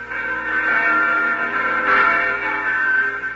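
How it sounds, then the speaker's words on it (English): Church bells ring in a sustained, resonant wash of overlapping tones, steady and fairly loud with no talking. "There are the church bells."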